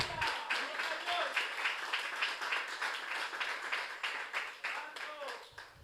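Rhythmic clapping from a church congregation keeps a steady, even pulse, with voices singing or speaking above it the whole time.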